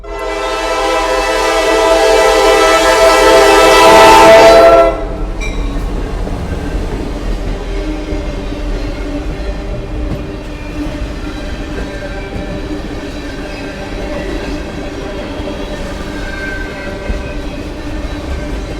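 Norfolk Southern first responders training train passing with a loud sustained horn blast for about five seconds, then a steady rolling rumble of the cars going by nearby.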